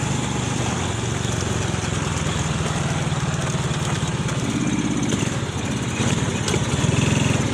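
A faulty motorcycle engine idles roughly with a steady, close putter, its note wavering and dipping as it threatens to stall.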